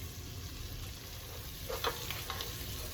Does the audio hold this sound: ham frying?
yes